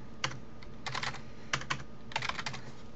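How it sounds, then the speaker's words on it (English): Keys typed on a computer keyboard while entering an email account name, sharp close clicks in short bursts with brief pauses, alone without talk. "I'm going to type in test 5."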